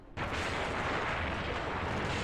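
A second cannon shot from the Hakuoki: Kyoto Winds video game: a loud, heavy blast that erupts suddenly and sustains a dense, roaring rumble with no speech over it.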